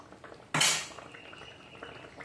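Prawns drop into boiling gravy in a pot with a sudden close splash and metallic clatter, followed by a fading sizzle and soft bubbling.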